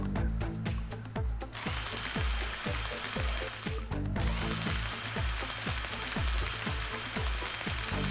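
Fossil drilling in the video game Fossil Fighters: Frontier: a steady, rapid run of rhythmic mechanical pulses over dense grinding noise, loud and continuous throughout.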